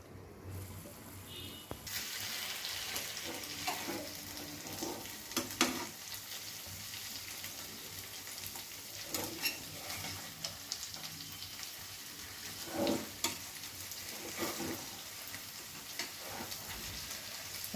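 Egg curry simmers in a pan over a low flame, a steady faint sizzle and soft bubbling with occasional small pops and clicks, continuous and quiet throughout.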